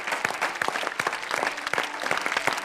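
Steady applause from a crowd, many hands clapping densely and continuously at close range, with no talking.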